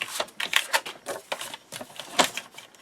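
Paper being scored and cut with a trimmer for a Voyage Beneath the Sea mini album and display box, a run of short, crisp clicks and slicing strokes in irregular bursts, close and fairly loud, with no talk.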